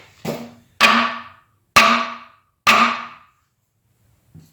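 Four sharp, loud whacks on the spine of a Spyderco Resilience liner-lock folding knife, each a ringing crack with a short decaying tail, spaced about a second apart, followed by a faint small knock at the end.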